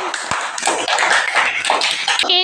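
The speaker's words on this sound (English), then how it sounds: "Clap பண்ணுங்க ஜனனிக்கு." Children in a classroom clapping for a classmate named Janani, a short, loose patter of small hands with scattered sharp taps and some voices.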